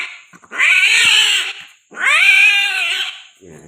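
A Persian cat caterwauling during mating, two long, loud, close, wailing yowls, each lasting over a second with a brief pause between, and no talking.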